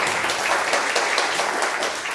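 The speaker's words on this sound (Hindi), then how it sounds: "तो पुनः आप एक बार मैं पुनः तालियों के साथ आप लोगों का स्वागत करना चाहूंगा।" An audience claps to welcome people at a Jivandan Foundation kanyadan yojana event, steady dense applause filling the hall without a break.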